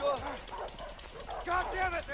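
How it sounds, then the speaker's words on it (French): Dogs bark and yip in the video game A Way Out, heard under excited French-speaking voices talking over the game sound. "Ils ont des putains de chiens!"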